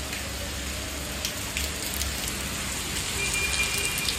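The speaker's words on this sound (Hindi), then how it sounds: "बहुत तेज बारिश है यार," Heavy rain pours down steadily outdoors during a downpour, a dense, even hiss of drops striking surfaces close by with occasional louder splatters, and nobody speaking.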